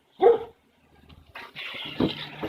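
A dog barks once sharply at close range, then after a short pause more barking and whimpering yips follow along with some background noise, loud and clear with no talk over it.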